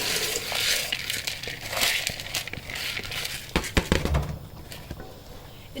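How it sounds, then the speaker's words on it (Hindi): Mung lentils tipped into a pot of boiling meat broth, giving a crackly rustling pour with bubbling and a few sharp knocks against the pot. "अब इसमें मैं ये मूंग की दाल शामिल कर दूंगी"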